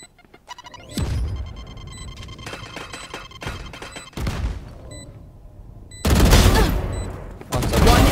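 Rapid fusillades of gunfire on the Icebox map of a competitive shooter game, several loud bursts separated by brief lulls and growing heavier toward the end, with ringing game alert tones scattered throughout.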